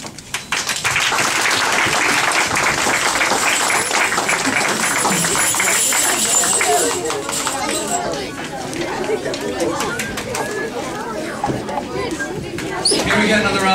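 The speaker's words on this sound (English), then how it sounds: "Here we get another round of applause for the reenactment of Moses meeting God" A congregation at a church Vacation Bible School applauds after a children's reenactment of Moses meeting God, with broad sustained clapping mixed with crowd chatter, strong at first and easing somewhat toward the end.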